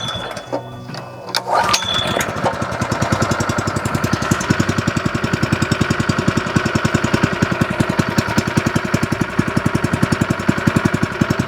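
A small engine, likely a lawn mower type, catches after a brief start attempt and runs with its choke on, a loud, steady rapid chugging that holds evenly at close range.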